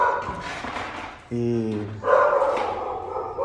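A dog barks in a short burst of sharp, tonal yaps between stretches of someone talking in Portuguese, near and fairly loud against the voice.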